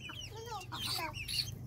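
Chickens clucking while being fed, a run of quick, fairly soft clucks and chirps close by over a low steady background hum.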